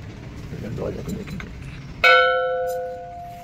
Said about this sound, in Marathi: मंदिराची घंटी.